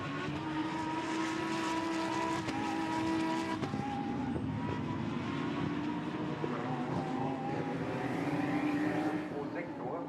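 Lamborghini Super Trofeo race cars roar past at the Nürburgring, a continuous loud engine drone with pitch shifts as cars pass, under steady commentary from an announcer.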